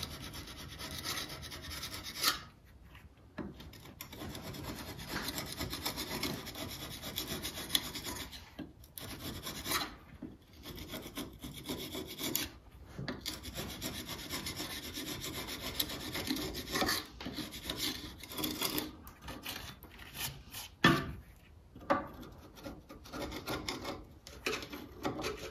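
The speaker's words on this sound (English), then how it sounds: "I'm going to go around and just do a bit of gentle scraping to get the rest of this oil off" Scraping oil off the rear axle of a 1968 Wheelhorse Raider lawn tractor, a quiet, close rasping and rubbing that runs in repeated strokes with brief pauses between them, with no talk.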